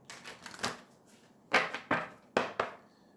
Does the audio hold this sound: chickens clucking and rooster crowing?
no